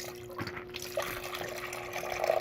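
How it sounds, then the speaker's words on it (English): Water is poured steadily into the reservoir of a single-cup coffee maker in a workshop, filling to the 8-ounce line, with a continuous trickling, splashing flow lasting a few seconds and rising slightly toward the end. "Just going to pour that right there to my little 8-ounce line."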